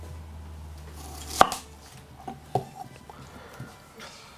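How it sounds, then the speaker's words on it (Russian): A knife dices an onion on a cutting board, chopping sharply a few times, with a loud first strike followed by softer, scattered cuts and quiet handling in between. "Лук режу кубиком."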